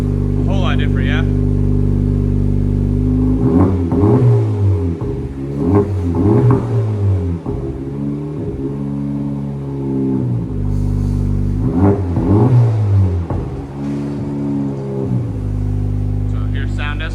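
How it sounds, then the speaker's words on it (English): A 2024 Honda Civic Type R 2.0L turbo with an AWE cat-back exhaust revs repeatedly in close, loud bursts, several sharp climbs and drops over a rumbling idle, with short stretches of talk at the start and later on. "2024 Honda Civic Type R with an AWE catback system."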